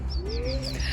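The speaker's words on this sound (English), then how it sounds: "hearing the birds" Brief bird calls, a few high thin chirps over a low steady rumble, with a soft rising whistle in the middle, moderately faint.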